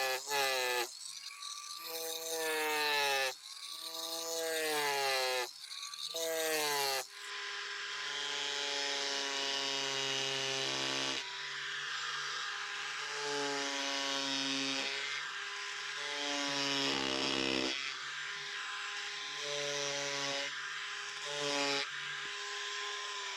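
Parkside PES 250 A1 electric chisel scraper working a wooden block, a loud buzzing motor whine that rises and falls in pitch as it bites in bursts, then runs more steadily.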